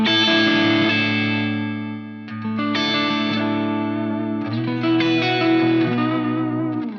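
Electric guitar played through a Marshall JCM 800 amplifier at full volume, loud sustained distorted chords ringing out with a brief dip in the middle before the strumming resumes, alone without talk.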